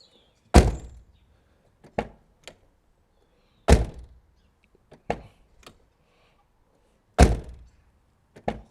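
A Mazda MX-5 door on stock door bushes shuts with a solid thunk three times, evenly spaced, each followed by lighter latch clicks and taps in between.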